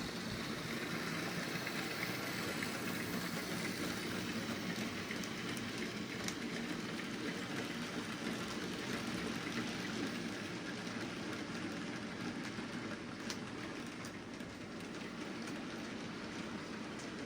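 A model railway train hauled by a 4F locomotive runs steadily throughout, giving a continuous quiet rumble with faint rhythmic clicking of wheels on track and no voices.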